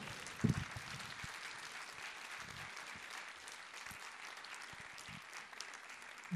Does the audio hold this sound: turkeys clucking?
no